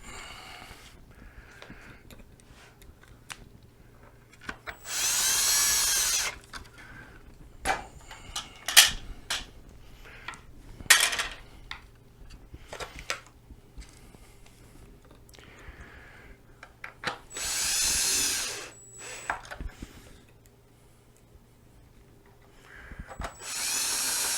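A power drill drives screws into the shroud of a Pride Mobility ZT10 mobility scooter. There are four short whirring bursts, with light clicks and handling noises between them.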